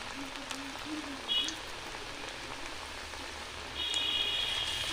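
Sabudana vada batter frying in hot oil: a soft, steady crackling sizzle like light rain, swelling slightly as more batter goes in, quiet and close.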